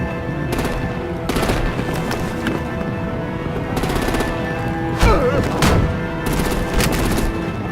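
Rapid bursts of automatic gunfire and heavy weapons fire in the Batman: Enemy Within video game, loud and repeated in short volleys with a few booming blasts, no talk over it.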